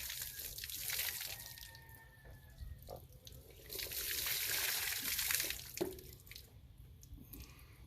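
Water splashes and pours during a bath at a deep well in the Philippines, with irregular faint gushes, trickles and drips close by and no talking.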